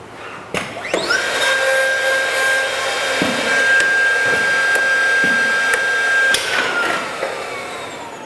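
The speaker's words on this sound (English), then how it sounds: "We want to get that pre-drill in the center of our feature." A CNC machine pre-drills a hole. The spindle spins up into a sustained high whine for about five seconds, with a few knocks and clunks before it winds down.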